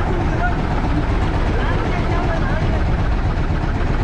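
A boat engine idles steadily after the boat drops anchor off Sonadia Island near Cox's Bazar, giving a continuous low rumble that runs through the whole stretch while people talk over it.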